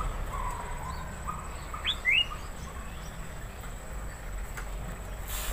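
Green leafbird (cucak hijau), a known mimic of other birds, gives a couple of brief, sharp chirps against a steady hiss of background noise and a faint continuous insect-like whine.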